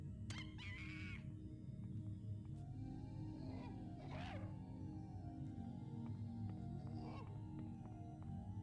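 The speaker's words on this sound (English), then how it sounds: "I hear a monkey." Animal hooting and screeching calls from monkeys in the video game System Shock 2, a few bursts rising over a dense, steady rumble of game ambience and music.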